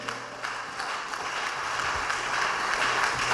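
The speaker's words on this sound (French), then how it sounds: "Acclame très très très fort Jésus." A church congregation at a worship service claps and cheers for Jesus, a steady, moderately loud wash of applause that builds slightly toward the end.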